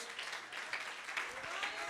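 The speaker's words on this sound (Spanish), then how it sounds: "Le damos palmas de alabanza" A church congregation claps in praise during a televised Spanish-language service, with steady, fairly faint applause running throughout, mixed with background voices.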